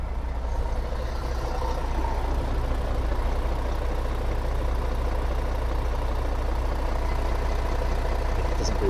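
A MAN TGX truck's heavy diesel engine idles steadily nearby from a cold start, a constant low rumbling throb with no change in pace throughout.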